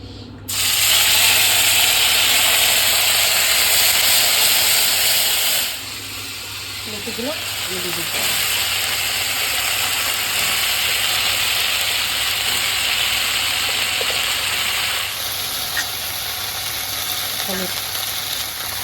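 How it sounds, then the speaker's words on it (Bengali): Cumin, ginger paste and green chilli hit hot oil in a kadai wok, giving a loud, continuous close-up sizzle and hiss that eases slightly after the first few seconds and carries on steadily. "তেল দিয়ে দিচ্ছি কড়াইতে জিরে একটু আদা বাটা আর কাঁচা লঙ্কা"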